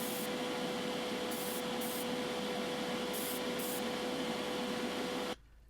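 Airbrush spraying aqua Spectraflame paint mixed with hardener onto a restored Hot Wheels Redline car: a steady, close hiss of air with a faint tonal whine, running continuously before stopping abruptly.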